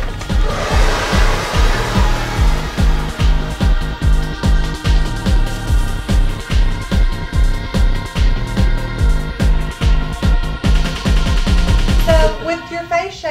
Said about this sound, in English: let's blow you dry